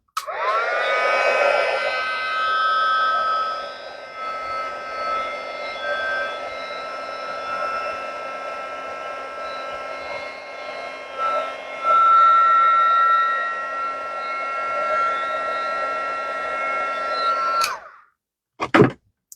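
A heat tool blowing hot air over embossing powder on a card, a steady close whirring drone that runs unbroken for about eighteen seconds and then cuts off, followed by a couple of brief clicks.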